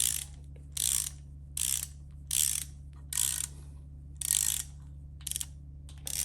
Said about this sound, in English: So we're just gonna snug them all up first, and then we'll torque them down.